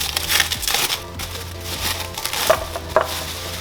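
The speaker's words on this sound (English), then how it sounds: "Let's go ahead and unwrap this." Pound cake being unwrapped from its wrapping, crinkly crackling rustles up close, continuous with a few sharper crunches toward the end.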